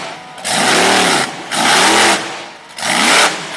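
The Iron Warrior monster truck, driven by Brooke Ruhl at a Woodstock, Virginia event, revs its engine loudly in three separate surges. Each surge swells with a rising growl and then drops back between bursts.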